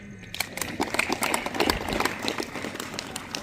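Children at a residential school in Maraguru clap together during a legal-awareness visit by judges, a dense, steady patter of many hands close by and fairly loud, with no voices over it.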